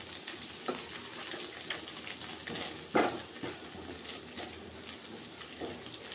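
A cracked egg fries quietly in a pan beside chicken for fried rice, with a soft sizzle and occasional scrapes and taps from a utensil.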